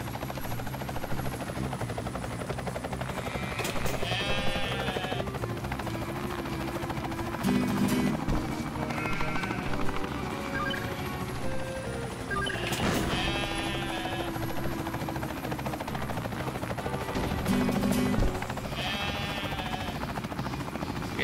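Helicopter rotor drone in Ty the Tasmanian Tiger 2 runs steadily throughout, with sheep bleats from loose farm sheep popping up in bursts over the game music, loud and close with no talk.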